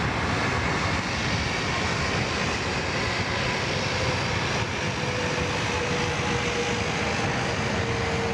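Qantas airliner arriving at Sydney Airport, a sustained steady jet engine roar with a faint rising tonal whine near the end, no talking.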